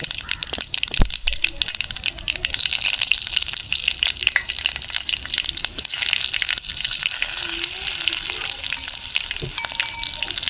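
Red chilies and mustard seeds sizzle in hot coconut oil for Onam pineapple pachadi, a steady, close, crackling hiss with a few sharp pops, continuing without a break and with no talking.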